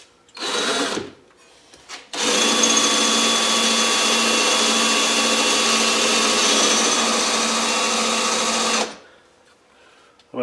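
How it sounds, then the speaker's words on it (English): A blunt drill bores through the cast iron body of an old meat grinder, a loud, steady, grinding whine close up that runs for about six and a half seconds after a short burst and a pause. "I'm afraid my drill's a little blunt"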